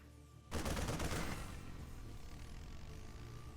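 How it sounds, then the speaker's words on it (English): A StarCraft 2 Marine opens fire in a Terran versus Protoss match, starting as a sudden loud burst of rapid gunfire that rattles on for about a second. The shots then fade into steady game ambience, with no voices. "The Marine taking some shots."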